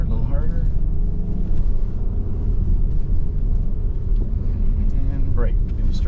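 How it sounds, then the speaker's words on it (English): Acura MDX A-Spec on Blizzak winter tires driving a snowy winter track, heard as a steady, loud low engine and road rumble from inside the cabin, with people talking over it. "we're tracking the MDX A-Spec here. We're on the Blizzak tires and we're going through the winter track."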